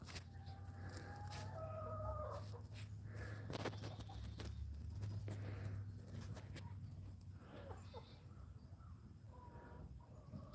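Chickens in a farm chicken coop cluck and call off and on over a soft low hum, with footsteps and scattered knocks nearby, at moderate level throughout.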